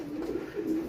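Racing pigeons coo softly inside a loft, low throaty rolling calls repeating in a couple of close, gentle pulses.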